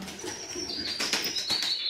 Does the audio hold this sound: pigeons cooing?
yes